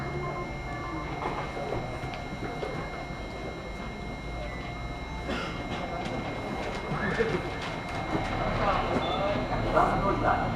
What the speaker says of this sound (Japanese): 2番乗り場に電車が到着します。